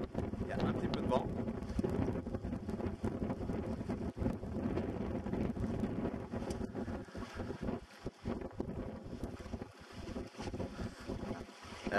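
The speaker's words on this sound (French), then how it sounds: "Il y a un petit peu de vent." Steady wind buffeting the microphone outdoors at a fishing spot, a continuous broadband rush with gusts, heard up close over water and boat-like rumble, with talk mixed in.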